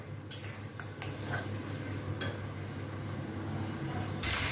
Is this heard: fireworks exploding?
no